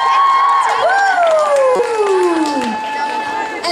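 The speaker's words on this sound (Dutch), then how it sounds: "Dus applaus voor jullie zelf!" A large audience at a concert cheers and screams with high, sliding shouts and whoops, loud and continuous, with scattered clapping underneath.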